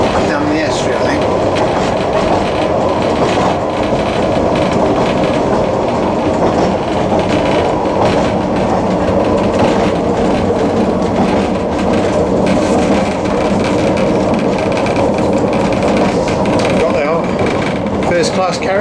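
A passenger train runs along the rails in North Wales, heard from inside a first class carriage as a loud, continuous rumble with faint rhythmic clatter throughout, while people talk over it.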